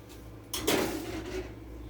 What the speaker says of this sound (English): So we're going to put this back in the oven.